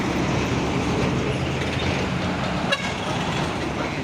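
A Hino 500 trailer truck hauling a container rumbles past on a busy road, a steady loud broadband roar throughout with a brief sharp clank near the end.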